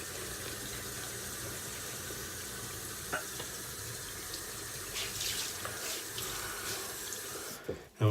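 Water runs steadily from a tap as a face is rinsed during a shaving routine, a soft continuous splashing stream with a few louder splashes, fairly faint and with no talking.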